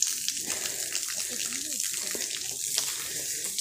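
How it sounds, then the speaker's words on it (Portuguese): A spring fountain on a walking trail pours a steady stream of water, splashing continuously and close by, with a faint voice briefly audible beneath it. "Aqui tem uma fonte"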